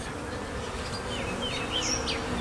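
Bees buzzing steadily at an open hive during a close inspection of frames holding larvae, pollen, nectar and honey; a continuous insect drone with a few higher whines of individual bees passing close.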